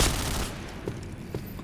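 A burst of gunfire in the game Point Blank at the start, then a few isolated sharp shots over a dull, noisy background.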